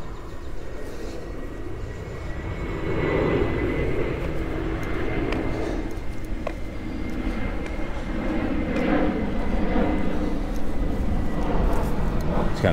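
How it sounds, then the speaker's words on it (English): An airplane coming in to land passes overhead above a cemetery in Minneapolis, a broad steady engine roar that swells and lingers for many seconds while people talk nearby. "Another plane coming in over."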